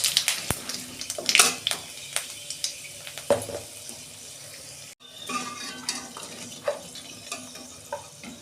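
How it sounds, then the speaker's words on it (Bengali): Whole cinnamon, cardamom and cloves drop into hot oil in a pan for a potato and pointed gourd curry, giving a soft steady sizzle with sharp crackles and a few clinks of utensils, no talking. "তেল দিচ্ছি কড়া, ডালচিনি, এলাচ, লবঙ্গ দিচ্ছি"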